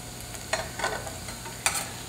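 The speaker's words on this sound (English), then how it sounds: "cook on the stove for about 5 minutes just to soften up our onion for our sauce" Softened onion cooking in a pan on the stove for a beer cheese sauce, a faint continuous sizzle with a few soft stirring scrapes, no voices.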